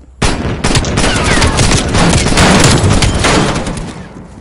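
A loud, sustained fusillade of overlapping gunshots rings out in a first-person shooter match, rapid cracks blurring into a dense roar for several seconds before tailing off.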